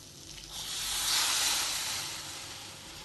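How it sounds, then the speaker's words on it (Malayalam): A little water poured onto ripe jackfruit in a hot pan over the fire, cooking for Malabar chakka ottada, bursts into a loud hissing sizzle that swells for a second or two, then slowly settles. "ഇനി തീ കത്തിച്ച് ഇതിലേക്ക് വളരെ കുറച്ച് വെള്ളം ഒഴിച്ചു കൊടുക്കാം."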